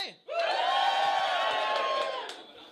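A comedy club audience cheers and whoops in one loud burst lasting about two seconds after a short pause, then fades out.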